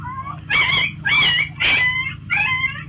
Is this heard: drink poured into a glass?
no